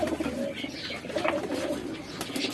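A female pigeon held in a hand gives soft, repeated cooing notes in short murmuring bursts, close and fairly quiet against faint background noise.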